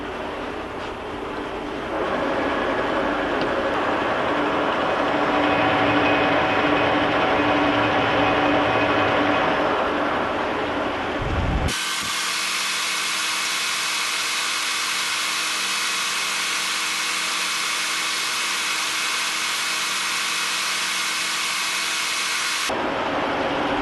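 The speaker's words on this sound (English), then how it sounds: "we'll drill the other ones in line" A power drill with a long bit grinds steadily through metal for a long stretch, then shifts to a harsher, higher whine until it breaks through and stops; no voices.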